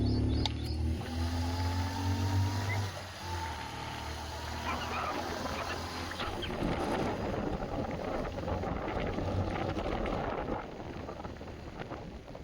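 Cold wind blows across an open reservoir at Daldali dam near Taulidih, Chhattisgarh, on an evening: a steady rushing roar that buffets the microphone after a low rumble at the start, with no clear speech.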